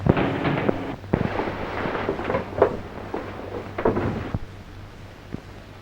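Gunfire in a 1947 crime film noir: a few sharp, heavy bangs ring out over a rumbling, noisy old soundtrack, followed by fading reverberant tails.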